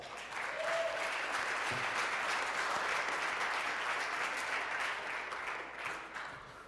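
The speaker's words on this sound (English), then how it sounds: "Let's give him a round of applause." Applause from an audience at a Rotary Club of Oakland meeting in 2024, a steady, dense clapping that holds for several seconds and then thins slightly toward the end, with no talking over it.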